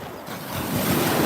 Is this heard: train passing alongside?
no